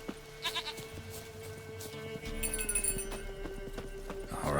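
In The Witcher 3, a goat's hooves clop close by in uneven steps, joined by wavering bleats in the middle, while ambient tones drone underneath.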